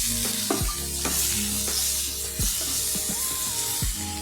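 Spices with turmeric sizzle in hot oil for a stalk curry, a bright hiss with intermittent scraping stirs, while tonal electronic hums and beeps run through the background.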